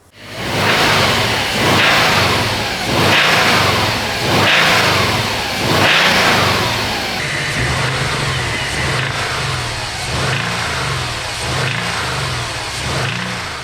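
A Subaru WRX engine with rod knock runs steadily, revving in repeated surges with a rhythmic knocking under the drone, close and loud with no talk.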